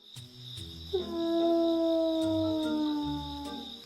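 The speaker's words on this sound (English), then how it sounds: "he'd go to his den and howl" A long, drawn-out wolf howl sliding slowly in pitch, sustained for a few seconds over a faint musical backdrop, with no talking.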